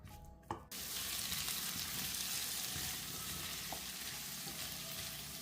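Mixed vegetables sizzle steadily in a frying pan for a few minutes while cooking a traditional chicken thigh dish with yogurt, a dense even crackle close by after a brief quiet start, with a couple of soft stirring knocks.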